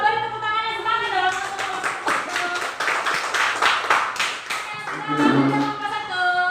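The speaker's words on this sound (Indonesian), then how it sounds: "kita beri tepuk tangannya semangat dong" A small audience in a classroom claps together in a steady run of quick, close hand claps lasting several seconds, with a few voices faintly underneath.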